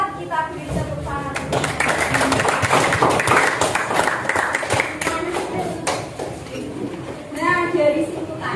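Clapping from students in a classroom lesson, a brisk burst of hand claps that swells and fades, mixed with chatter and voices of children talking through it.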